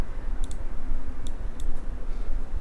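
A few sharp mouse clicks on a slide toggle button, close and crisp, spread across a steady background hum with no talking.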